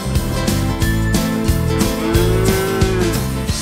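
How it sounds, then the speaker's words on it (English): Holstein dairy cattle lowing on a large farm, several overlapping moos sounding close and loud over steady background music. "The herd at Almarai are able to produce more milk than other breeds of cattle."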